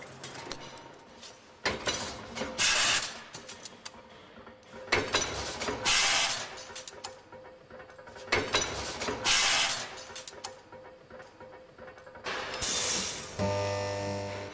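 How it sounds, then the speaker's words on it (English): Stamping machines and presses in the Brooks saddle factory cutting and shaping steel saddle-frame parts, producing a series of loud, sharp metallic slams and clanks at irregular intervals over a constant mechanical hum, with a whirring machine at the end. "A dozen other machines and presses cut, stamp, bend and shape all the other parts of the saddle frames"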